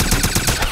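Rapid automatic gunfire from a Wolfenstein firefight, a steady run of evenly spaced loud bursts close up with no pauses.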